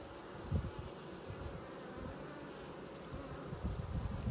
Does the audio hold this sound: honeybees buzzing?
yes